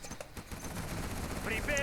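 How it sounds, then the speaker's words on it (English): A howitzer cannon on a GLA strategy center fires in C&C Generals, with short muffled booms and rattling battle noise at moderate loudness under a talking voice. "The strategy center fired from the howitzer"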